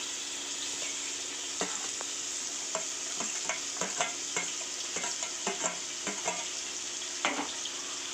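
Chopped onions fry in hot peanut oil, a soft steady sizzle broken by repeated sharp clinks and scrapes of a spoon stirring in the pan, no voices.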